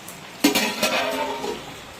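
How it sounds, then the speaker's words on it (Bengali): A metal lid clanks back onto a pot of mutton cooking in oil, Bengali village style: one sharp clink, then a short scraping rattle and a lighter knock, close by in a quiet kitchen. "এইভাবে আবার দিয়ে দেবো ঢাকা চাপা"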